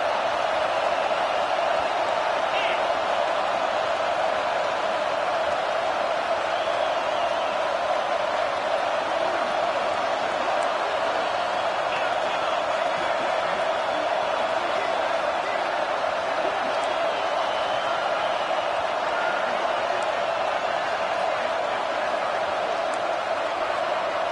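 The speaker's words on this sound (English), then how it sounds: "with this place rocking, the crowd forces a false start" A stadium crowd at a Tennessee vs. UCLA college football game roars in a steady, dense wall of noise that holds for the whole stretch without letting up.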